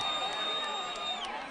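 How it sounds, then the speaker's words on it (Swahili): Large crowd at a political rally cheering continuously, with shrill ululation ringing high above the dense roar of voices, steady and loud throughout. "Wapi shangwe na vigelegele ya baba?"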